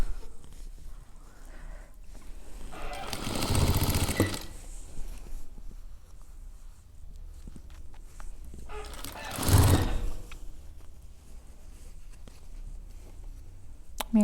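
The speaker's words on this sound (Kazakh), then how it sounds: "Мен қазір баяу тігіп жатырмын." A sewing machine slowly stitches a khan blanket in two short bursts of mechanical whirring and clatter, separated by quieter pauses with faint handling noise.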